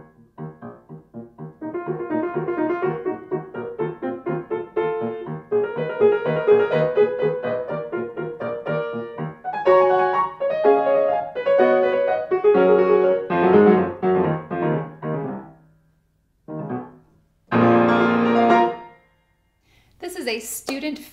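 Solo piano playing Grieg's Puck (Little Troll), Op. 71 No. 3, a fast minor-key lyric piece, with quick detached notes and short pauses, fairly loud and close, ending in brief bursts.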